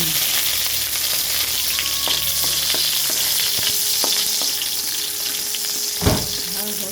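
Garlic fries in hot oil for chicken drumstick adobo, a loud, steady crackling sizzle throughout with occasional clinks of a utensil against the pan.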